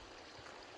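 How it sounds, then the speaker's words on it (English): A small waterfall trickling off the edge of a mountain stream in the Uinta Mountains backcountry, a faint, steady wash of running water heard from a distance. "there should be a little trickle of waterfall"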